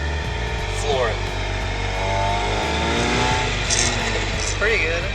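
A cheap early Mazda Miata with a freshly installed clutch pulls away under full throttle, its engine note climbing up close inside the convertible while people talk over it.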